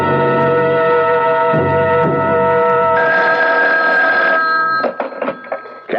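An old-style telephone bell rings loudly and steadily in a radio detective drama, a continuous ring that stops near the end, leaving a few faint clicks and handling sounds.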